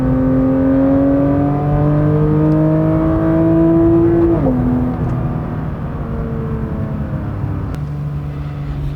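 A Porsche 992 GT3 engine pulls hard under way, its loud, rising drone climbing steadily before a quick PDK upshift drops the pitch, then carrying on at a steady, lower howl with road roar.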